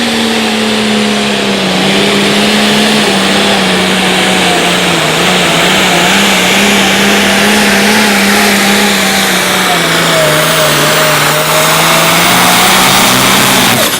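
A Case IH tractor roars at full power during a light limited pro stock tractor pull, its loud, steady engine drone holding strong throughout with a slight pitch sag toward the end.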